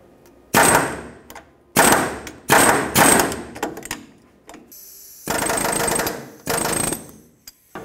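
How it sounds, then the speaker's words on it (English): A pneumatic air hammer strikes a steering pitman arm on a 1997-2003 Ford F-150 in several loud, rapid bursts separated by short pauses, each burst a harsh metallic rattling close by. "Again, with my air hammer, like I said, you can just do this by hand."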